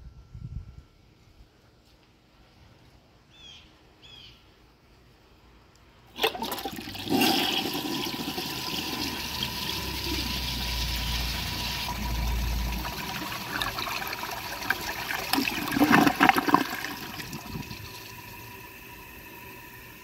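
A black 1991 Universal-Rundle Saturn toilet flushes after a quiet moment and a couple of faint clicks: a sudden loud rush of water swirls and gurgles for several seconds, then drains with trickling and a final surge of gurgling.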